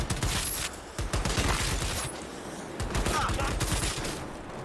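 Rapid bursts of gunfire in Cyberpunk 2077, shooting at an enemy's legs, crack repeatedly at close range in dense clusters, with faint speech mixed among the shots.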